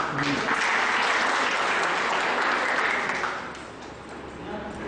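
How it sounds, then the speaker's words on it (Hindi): An audience at a teachers training college in Madhepur, Madhubani, Bihar claps in loud, sustained applause that gradually thins and softens toward the end. "एक राउंड और ताली"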